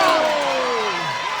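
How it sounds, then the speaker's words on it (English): A wrestling crowd at a bullrope match roars steadily and loudly for the whole moment, a dense wall of cheering with a falling whistle-like tone sliding through it. "the crowd is fired up"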